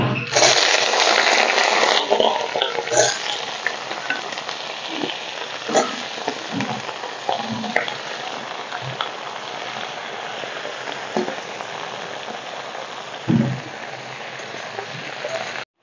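Taro stolons hit hot oil in a frying pan and sizzle loudly, a dense crackling hiss that starts strong and settles into a steady, slightly quieter fry with occasional stirring clatters.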